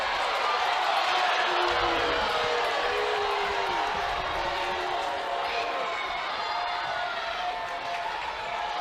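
A softball stadium crowd at a women's college game between Florida and Georgia reacts to an umpire's call with a sustained roar of voices and cheering, while a commentator talks over the noise.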